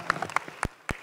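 Scattered, fading claps from a fashion show audience honoring a cancer aid group's 50 years, a handful of uneven, sharp hand claps, the last two louder and isolated, against near silence.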